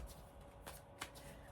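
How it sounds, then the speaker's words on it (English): Tarot cards are shuffled by hand in a quiet room, soft riffling bursts with a couple of sharper flicks, faint and close. "I'll give it a couple more shuffles."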